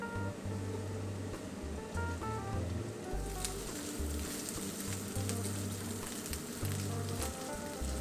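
Roast pork hitting a hot wok with ginger, garlic and chili for a stir-fry, a loud, continuous close sizzle that stays dense and steady, with occasional scraping and stirring bumps underneath.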